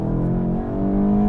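A 2018 VW GTI, a small white Volkswagen hatchback, accelerates hard, its engine note rising steadily in a loud, close, continuous pull with no voices over it.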